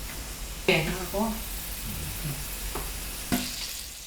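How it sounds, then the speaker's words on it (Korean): Chopped raw octopus stir-fries in a pot, giving off a steady hiss and sizzle with occasional scraping stirs, while a voice talks over the cooking. "낙지탕탕이를 그대로 냄비에 볶다가 쌀을 넣고 끓이면 낙지죽이 됩니다"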